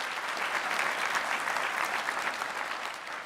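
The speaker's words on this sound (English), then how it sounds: "Let's give them a round of applause, please." Dense, sustained applause from a large conference audience at a general session and keynote, a loud continuous wash of many hands clapping throughout.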